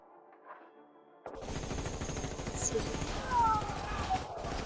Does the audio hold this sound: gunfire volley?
yes